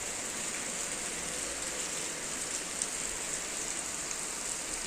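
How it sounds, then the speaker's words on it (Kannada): Rain falls steadily, a soft, even hiss of drops on surfaces that holds the same level throughout, with no talking. "ಮಳೆ ಬರ್ತಾ ಇದೆ."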